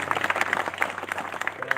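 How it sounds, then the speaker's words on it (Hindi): An audience at a village gathering claps for Markam ji in a loose, uneven patter of hand claps, with some individual claps standing out over a low steady hum. "एक बार मरकाम जी के लिए ताली बजा दिया जाए"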